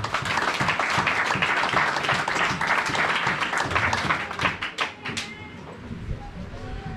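A church congregation claps and cheers loudly for several seconds, dense rhythmic applause that thins out toward the end, with voices mixed in.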